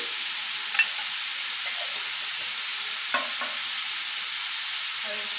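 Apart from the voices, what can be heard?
stirring hilsa fish head with salt and turmeric in a pan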